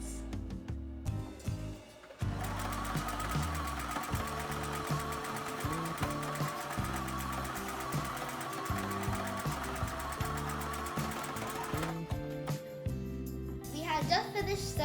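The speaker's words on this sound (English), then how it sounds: "I'm now going to sew the lines." A sewing machine stitches fabric for an origami fox bag, running in a steady, continuous whir close by for several seconds, with brief pauses at the start and end.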